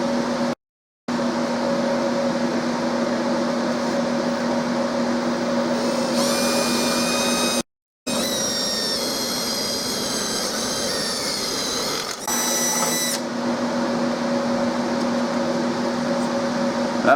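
A drill bores a hole just under 1/2 inch, a 17/64 bit, for an aftermarket car backup sensor, running as a loud steady whine with two brief stops and rising pitch bursts as the bit bites.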